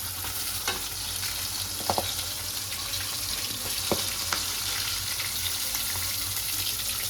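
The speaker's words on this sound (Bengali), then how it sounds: "আমি হালকা করে ভেজে নিচ্ছি" Pangas fish pieces lightly frying in hot oil, a steady close sizzle with a few sharp crackles and pops scattered through.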